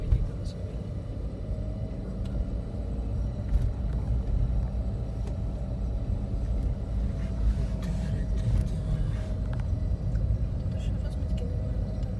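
Manual-transmission car engine rumbling steadily from inside the cabin during a driving lesson, a low continuous drone with road noise and a voice talking over it.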